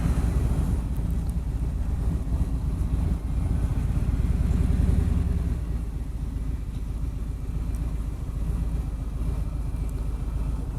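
A Harley-Davidson motorcycle engine runs steadily, giving a continuous low, rumbling drone with wind noise across the microphone throughout.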